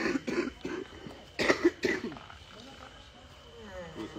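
A person coughs in a cluster of harsh, throaty bursts near the start, then a louder double cough mid-clip, trailing off into quieter breathing and faint background noise.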